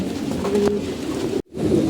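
Domestic pigeons cooing in a home loft, a low continuous burbling drone that runs steadily and briefly cuts out near the end before resuming.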